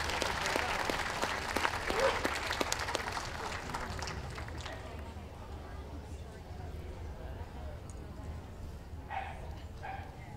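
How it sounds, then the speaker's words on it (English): Audience at an outdoor championship dog show clapping for utility group breed winners, brisk applause at first that fades out after a few seconds, leaving distant ambience and faint voices. "let's hear a warm round of applause for these best of breed winning"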